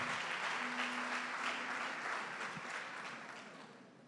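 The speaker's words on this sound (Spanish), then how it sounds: "Dale un fuerte aplauso al Señor y toma asiento." Church congregation giving strong applause to the Lord, a steady full roar of many hands filling the room and easing slightly as it continues.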